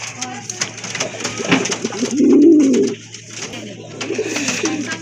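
Danish pigeons, a pair in white tiger colouring, coo in a throaty rolling burst mid-clip amid other bird calls and background chatter, close and clear.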